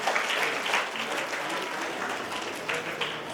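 An audience claps steadily at a school event marking Savitribai Phule's birth anniversary, a dense, continuous round of applause from a gathered crowd that holds for several seconds.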